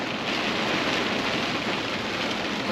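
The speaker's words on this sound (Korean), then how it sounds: "비 오는 거 보이시죠? 어우 옷좀 갈아입어야 돼요 어휴 시원하게 오네요" Heavy summer shower pouring down steadily around a parked truck, a dense, even hiss of rain close by with no talk over it.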